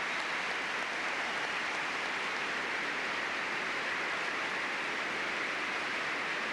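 A crowd of about 9,300 at Ahearn Fieldhouse gives Ronald Reagan a standing ovation, a dense, unbroken wash of applause that stays loud and steady from start to finish.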